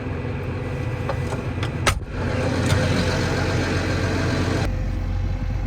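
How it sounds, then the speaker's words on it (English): A parked pickup truck's engine idles steadily nearby with a low, continuous rumble, joined by a brief knock partway through, before the sound shifts near the end, ahead of planting corn on a farm. "I'm going to actually go park my truck here."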